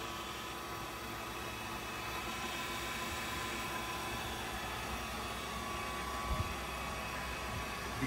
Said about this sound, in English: Working of spindle at its maximum speed, that is 2000 rpm, and you can hear there is no extra noise from the spindle